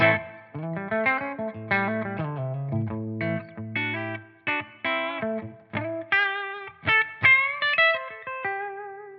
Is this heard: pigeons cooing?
no